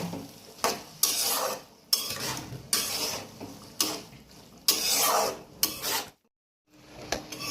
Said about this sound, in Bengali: সেদ্ধ মটর দানাগুলো এইবারে এই আলুর সাথে মিশিয়ে দেব, দিয়ে এবারে নেড়ে চেড়ে ভালো করে